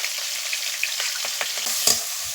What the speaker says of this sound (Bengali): পেঁয়াজটা লাল লাল করে ভেজে নিতে হবে